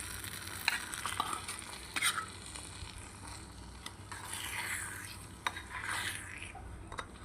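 Liver fries in masala in a pan with a soft, low sizzle while a spoon scrapes and stirs in scattered strokes, near but quiet.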